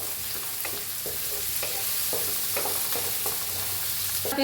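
Onion and curry leaves fry in oil and are stirred over a steady close sizzle, with regular soft spatula scrapes recurring about twice a second and no voices.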